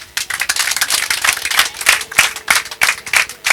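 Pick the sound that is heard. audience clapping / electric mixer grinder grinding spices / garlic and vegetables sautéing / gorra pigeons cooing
audience clapping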